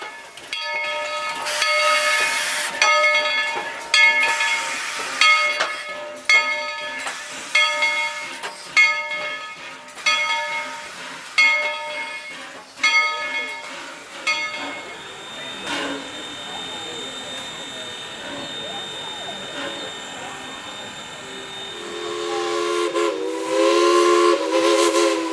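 A steam locomotive switching cars at Tweetsie Railroad, with hissing steam and repeated whistle blasts, followed by a long sustained hiss and rumbling rail noise, fairly loud and nearby.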